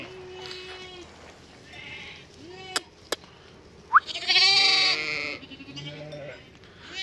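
Lambs and ewes bleat back and forth as dairy lambs are reunited with their mothers on a farm, several calls overlapping near and far with a louder, sustained chorus in the middle.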